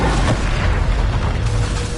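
Bombarda explosion spell in Hogwarts Legacy: a dense, continuous blast of booming, crackling noise with heavy low rumble, loud and close throughout.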